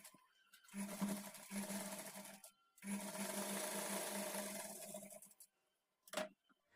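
A sewing machine stitches a blouse, a fast steady mechanical whir in two runs broken by a brief pause, then a short final burst, heard close and alone.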